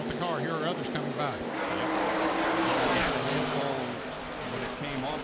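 NASCAR race cars roar past on the track at Darlington in 1997, a broad engine rush that swells and fades as the cars go by, heard under continuous commentary.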